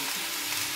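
Garlic egg fried rice sizzles steadily in a kadai over high flame, a continuous close hiss of frying with no voices.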